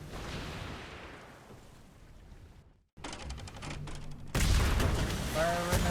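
Naval cannons in a Royal Navy role-play video game, several booming volleys and crackling bursts in quick succession, loud and close, with a sharp cutoff between salvos.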